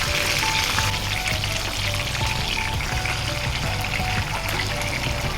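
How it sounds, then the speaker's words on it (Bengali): Fish paturi, parcels laid one by one into hot oil on a stove, fry with a continuous loud crackling sizzle, steady and close throughout with no talking. "তো চুলাতে তেল গরম করে আমি পাতুরিগুলো একটা একটা করে দিয়ে দিচ্ছি।"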